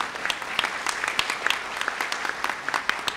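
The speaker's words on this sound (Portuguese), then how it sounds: "Palmas para os nossos irmãos." A church congregation claps for visiting members: a few seconds of brisk, scattered applause from a modest crowd in the room, with faint voices beneath.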